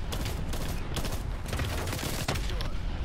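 Dense, continuous gunfire from Call of Duty: Black Ops Cold War in a Hardpoint match, rapid bursts stacking into a steady fusillade at close range with brief sharp spikes, faint talk underneath.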